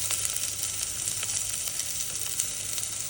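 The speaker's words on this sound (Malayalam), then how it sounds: "അതിലേക്ക് അരിഞ്ഞ് വെച്ച സവാള ഇടുക. ആദ്യം നന്നായിട്ടൊന്ന് ഇളക്കിയതിന് ശേഷം" Sliced onions sizzle and fry steadily in a hot pan for a curry, with faint scrapes and taps of stirring scattered through the continuous hiss.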